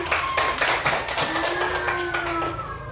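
Third-grade schoolchildren clapping in a classroom during an animal lesson, a short burst of uneven claps with sustained tones running underneath.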